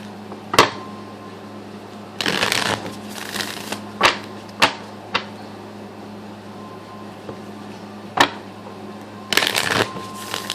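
Oracle cards shuffled for a reading in several short bursts of riffling and crisp card slaps, spaced irregularly, close and clear over a faint steady room hum, with no talking.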